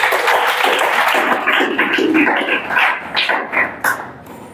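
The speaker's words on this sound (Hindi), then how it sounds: "साधना के लिए ताली बजाओ भाई" A group in a police recruitment class claps for a student named Sadhana, a dense, loud burst of many hands that thins into scattered claps toward the end.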